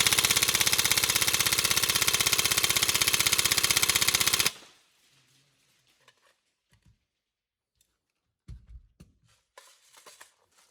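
A Tokyo Marui MK18 NGRS airsoft electric gun fires a loud, rapid full-auto burst for about four seconds, then stops, leaving near silence with a few faint clicks and handling noises.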